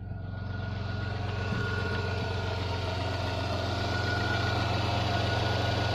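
Rover 45 V6 engine idling just after start-up, a steady low hum with an even mechanical whir that settles and holds close and continuous throughout, no voices.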